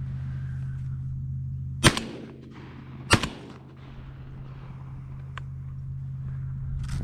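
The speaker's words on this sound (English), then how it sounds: "I clipped him that first shot." Two sharp shotgun blasts fired at doves during a dove hunt in South Georgia, loud and about a second apart, over a low steady hum in an otherwise quiet field.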